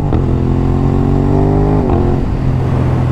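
An Aprilia RS 660 sport motorcycle engine revs loud and close, a sustained droning roar that rises and then drops back to a steady idle.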